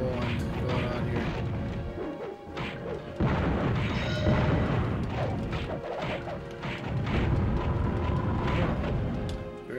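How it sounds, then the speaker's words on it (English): Shotgun spread shots in Gauntlet Legends on N64 boom and crash again and again in heavy, dense bursts, mixed with game effects and music, loud the whole time. "Kind of a spreader shot now. I got like a shotgun."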